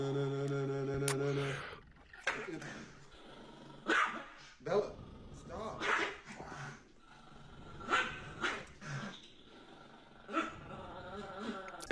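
Dog barks, growls and snarls from a guard dog attacking in the video game Metal Gear Solid 2, several sharp bursts spaced through the clip over game music and sounds, fairly loud and close.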